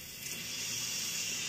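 Water rushing from a tankless water heater's flush valve into a home heating system during a Honeywell zone valve replacement, a steady, even hiss of filling flow with no breaks, close and moderately loud.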